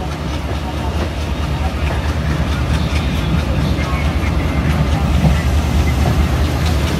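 A Bhanga commuter train runs along the Padma Bridge rail line out of Dhaka, its carriage giving a steady, loud rumble and rattle heard from inside, with no break over several seconds.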